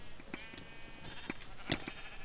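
Sheep bleat faintly in a video game, several short wavering calls spread out over low background game noise, distant and quiet.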